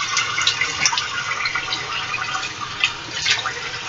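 A sink tap runs steadily in a bathroom during a wet shave, producing a continuous, close rushing hiss of water that stays fairly even throughout.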